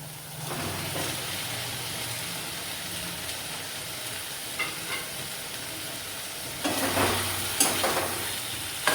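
Pointed gourd frying and being stirred in spice paste in a pan for kakrol posto, a continuous close sizzle with occasional scraping stirs and a louder burst of frying toward the end, no voices.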